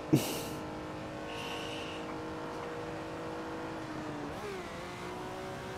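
A Ferrari 330 P4 racing around Spa in a video game, its engine droning at moderate, fairly faint level with a steady pitch that dips and rises briefly as the throttle eases, no voices heard.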